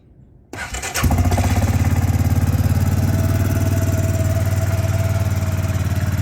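A 2004 Suzuki Eiger 400 4x4 ATV engine cranks over briefly, catches and settles into a loud, steady, throbbing idle on choke, close by with no talking.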